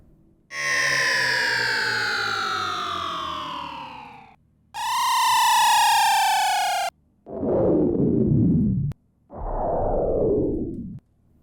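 Synthetic sci-fi sound effects from a game sound library: four separate sweeping electronic tones. Two long, bright, siren-like swoops are followed by two shorter, lower tones that sweep downward, each cut cleanly, with no other sound.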